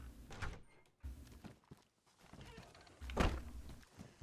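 A door in a video-game base is swung shut, giving a few dull thunks spread across the stretch, the heaviest one near the end, all at low volume with no talk.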